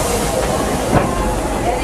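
A Disneyland Railroad train rolls toward a stop, a loud steady rumble and hiss of the cars with a faint clank midway, while a voice talks over it.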